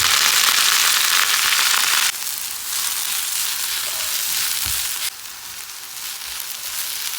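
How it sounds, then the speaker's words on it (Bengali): Coriander leaves frying with onion and garlic in hot oil, a loud dense sizzle and crackle that drops in level twice as the food settles, no talking. "আর এটার ভিতরে এখন ধনিয়া পাতা দিয়ে দেবো, ভেজে নেব"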